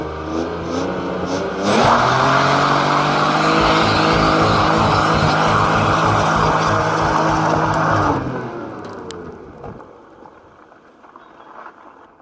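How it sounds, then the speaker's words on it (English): A car does a tyre burnout: the engine roars and the tyres screech loudly and steadily for about six seconds, then the noise dies away into quiet idling. "But first, burnout."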